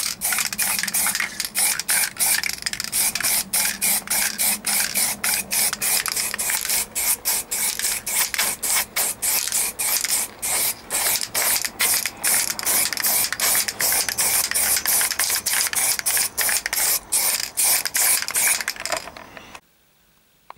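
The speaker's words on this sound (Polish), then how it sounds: "pora na ostatnią warstwę takim zwykłym czarnym sprayem" Black spray paint hissing from an aerosol can onto a Polonez Caro Plus fuel tank, a close, loud series of short rapid bursts repeating for about twenty seconds before cutting off abruptly.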